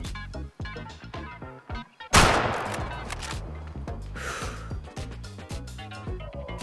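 A loud rifle shot rings out in the hunting video game Way of the Hunter, striking a bison; one sharp blast with a long rolling tail, set among game music and ambient sounds.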